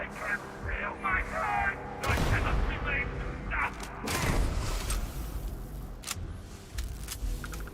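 Grenade explosions in the video game Starfield, sharp broadband blasts around two and four seconds over a busy layer of gunfire and combat noise, with a voice heard talking during the fight.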